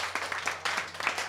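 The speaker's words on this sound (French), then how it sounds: "Donc un peu d'applaudissements." A small audience at an apartment live concert gives brief, scattered applause, a few uneven claps close by and fairly quiet.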